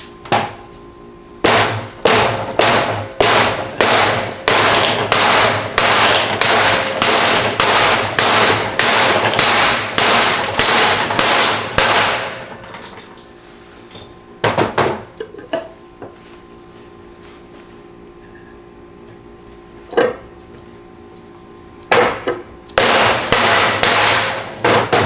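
Hammer tapping parts into a BMW E30 subframe: long runs of sharp, evenly spaced metallic strikes, loud and close, broken by a quiet pause and a few isolated knocks before the tapping resumes.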